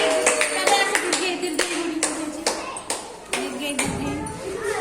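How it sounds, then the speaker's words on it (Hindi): Children in a classroom clap their hands in a quick burst of sharp claps, then a few separate claps follow, with a voice and classroom chatter underneath. "ताली मारो"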